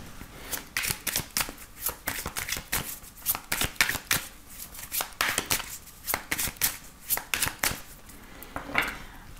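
Oracle cards being shuffled by hand in a steady run of crisp riffling flicks and soft slaps, close and fairly loud, continuing alone without speech for the whole stretch.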